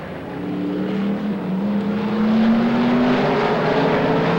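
Race cars circle the track at Silver State Raceway in 1994, their engines a loud, steady roar with a rising pitch, as if passing close by.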